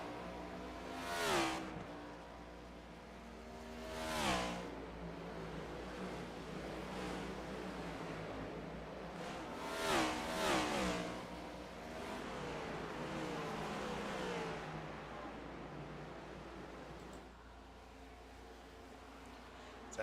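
Race cars circle Richmond Raceway in a Scrambler Series playoff race, with several engines roaring past in swelling, receding waves over a constant track rumble, under a commentator's talk.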